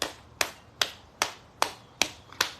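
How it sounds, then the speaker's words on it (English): Hands clap sharply and loudly, seven evenly spaced crisp claps at roughly steady intervals, close and alone with no talking. "I'm really going to clap."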